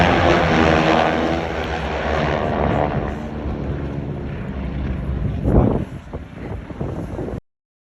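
Propeller aerobatic planes of the AeroShell team roar past during a daytime air show at Sun n Fun 2023, a loud sustained engine drone that swells and then fades, with wind buffeting the microphone.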